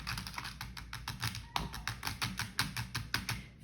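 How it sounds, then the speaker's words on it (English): Numbers keyed into a calculator, a quick, even run of soft plastic button taps at close range, around a dozen presses in a steady rhythm with no talking over them. "So I'm gonna type each of those in my calculator."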